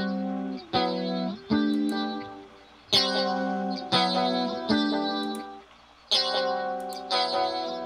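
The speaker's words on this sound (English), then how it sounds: "there's a bunch of chorus on the clean sound" A clean electric guitar run through a chorus effect plugin in Logic Pro plays ringing strummed chords, each struck hard and left to shimmer and fade before the next, loud and steady with no voices over it.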